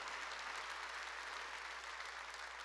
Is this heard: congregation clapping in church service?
yes